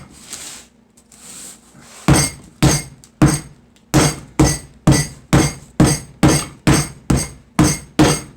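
A rolling pin strikes puff pastry dough in a series of about a dozen sharp, evenly spaced thuds after a few quieter taps, each blow loud and close with a brief ringing tail.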